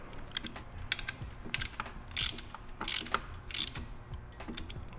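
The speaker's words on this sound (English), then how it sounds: "I'll take the ratchet to tighten them." A ratchet turns 6mm hex bolts on Bonamici clip-ons fitted to an Aprilia RSV4, making quiet, quick clicking pawl ratchets in short bursts against a low background.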